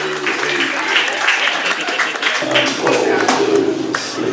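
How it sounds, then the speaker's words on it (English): A crowd applauds loudly and steadily, dense clapping that carries on without letup for several seconds. "let's have another big round of applause for Phariss, everybody."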